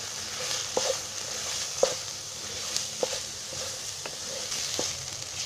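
Field beans frying in a pan with spices for birda rice, a steady low sizzle broken by a few spaced spoon scrapes and taps as the mixture is stirred.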